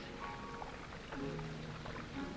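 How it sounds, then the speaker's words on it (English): Steady rushing ocean water from a boat fills the background, with a low boat-motor drone and faint tonal whines rising over it. "I can't hear you over the sound of the water."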